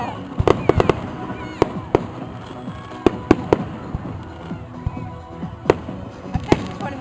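A summer fireworks display, with sharp bangs and crackling bursts going off in quick, irregular succession, loud and close, while people's voices mix in beneath.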